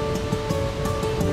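Waterfall rushing in Geopark Ciletuh, West Java, a steady loud broadband roar of falling water that stays constant throughout with no voices.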